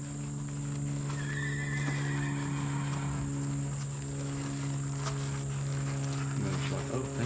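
A horse whinnies and neighs close by amid steady outdoor insect buzz and faint hoof movement, with people talking quietly nearby.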